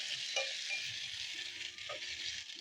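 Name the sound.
potatoes and tomatoes frying in a pot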